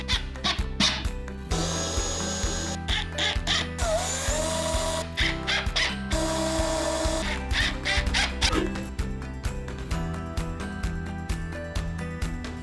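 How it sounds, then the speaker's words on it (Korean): Power drill driving screws into scrap-wood pieces while assembling a small upcycled shelf, in repeated short whirring bursts with squeaky pauses between them, close and fairly loud, with no talking. "구멍을 뚫어준 그 위치에 나사 본스를 넣고 이제는 드릴을 이용해서 체결을 해보도록"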